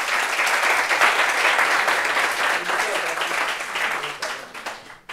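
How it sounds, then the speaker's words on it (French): A crowd at a public meeting bursts into dense, sustained applause, loud and close, continuing steadily for several seconds before tapering off abruptly at the end. "on applaudit pour elle"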